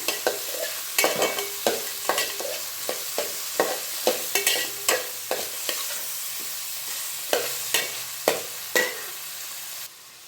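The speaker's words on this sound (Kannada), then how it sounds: "ಈರುಳ್ಳಿ ಫ್ರೈ ಆಗ್ತಿರುವಾಗಲೇ ನಾನು ಕ್ಯಾಪ್ಸಿಕಮ್ನು ಹಾಕ್ಕೊಂಡು ಫ್ರೈ ಮಾಡ್ಕೊತಾ ಇದ್ದೀನಿ" Capsicum and onion frying in a pan for a paneer capsicum gravy, with a spatula scraping and clacking against the pan in irregular repeated strokes over a steady sizzle, close and fairly loud, with no voices.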